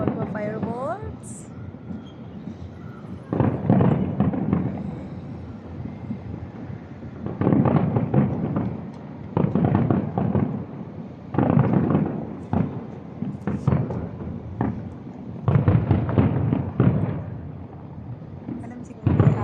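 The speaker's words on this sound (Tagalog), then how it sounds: "Yaman nila magpa-fireworks." A UAE National Day fireworks display heard from a distance, with repeated bursts of crackling pops in clusters. Excited voices exclaim throughout.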